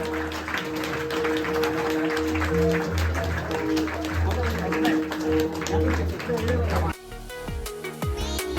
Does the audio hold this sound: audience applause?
yes